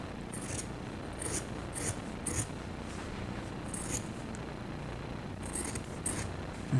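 Scissors cutting through stitched fabric while altering a pants pattern, a series of quiet, close crisp snips in irregular bursts over a low steady background hum.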